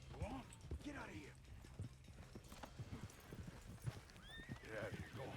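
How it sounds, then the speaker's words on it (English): Horses in a video game gallop away with clip-clop hoofbeats and a whinny, heard under ongoing talk from a player. "Just randomly letting their horses run off"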